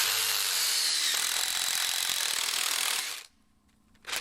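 A heavy duty pocket hole bit drills a pocket hole in framing lumber, a loud steady whirring grind lasting about three seconds before cutting off abruptly, followed by a brief quiet and a faint return of noise.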